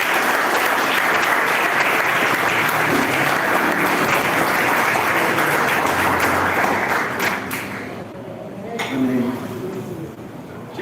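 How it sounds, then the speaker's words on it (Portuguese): A large church congregation claps and cheers loudly and continuously, the applause fading toward the end into scattered claps and murmuring. "Você pode dar salva de palmas ao Senhor"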